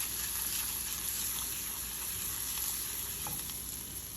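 Sliced jalapeños frying in a hot pan while being stirred for salt and pepper chicken wings, a steady close sizzle with a faint scrape of the utensil, no voices.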